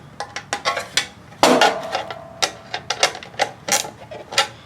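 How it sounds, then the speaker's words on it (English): A ratchet clicks in quick irregular bursts while screws are tightened during an Audi Q7 installation, giving close, sharp ticking with short pauses between runs. "take your Phillips screwdriver, and your ratchet, make sure it's on tighten,"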